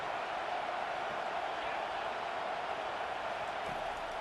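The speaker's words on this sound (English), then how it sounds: "this crowd is turning it up a notch" A dense, steady roar of a stadium crowd in a college football video game swells as one continuous wash of cheering noise, with no distinct voices standing out.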